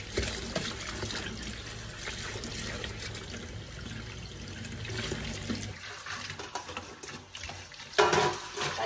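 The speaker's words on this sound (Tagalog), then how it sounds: "Hugasan ko lang itong kangkong. At hugasan lang natin itong mabuti." Kangkong (water spinach) is washed under running water in a sink, with a steady splashing trickle and gentle handling sounds close by, the flow shifting and briefly louder near the end.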